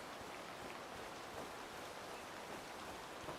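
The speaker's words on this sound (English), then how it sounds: "In the game, yeah, it'll stop raining." Steady rainfall in the hunting game Way of the Hunter 2, a quiet, even hiss of drops falling on the ground throughout, with no voices over it.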